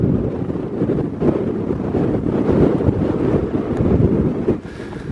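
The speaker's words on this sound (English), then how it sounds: "Wind's picked up." Strong wind gusting across open moorland in Yorkshire, buffeting the microphone with a loud, continuous low roar that swells and eases over a few seconds, with no talk.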